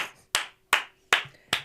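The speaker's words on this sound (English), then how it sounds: "Please applaud me for making it too." Sharp bursts of hand clapping, four distinct loud claps spaced about 0.4 seconds apart, each decaying quickly, with no talk over them.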